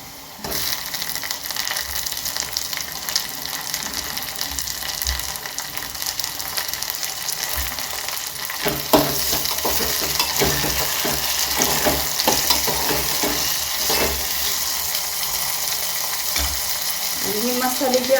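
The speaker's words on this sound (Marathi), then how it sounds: "कांदा चांगला थोडा सोनेरी रंगावर आला की आपण टोमॅटो टाकून घ्यायचे. आता टोमॅटो टाकून घेते." Tomatoes go into a pan of golden fried onion and hiss in a continuous loud sizzle, with scraping and stirring clatters running through it.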